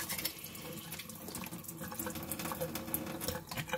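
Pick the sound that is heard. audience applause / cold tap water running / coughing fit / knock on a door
cold tap water running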